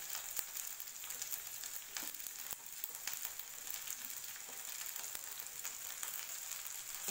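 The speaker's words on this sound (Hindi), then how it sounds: "हल्का सा प्याज होने के बाद हमें डालनी है जो हमने यहाँ हरी मिर्च ली है" Onion and green chilies fry in a pan with a steady, dense hiss and crackle that runs throughout at moderate volume, broken by occasional brief pops.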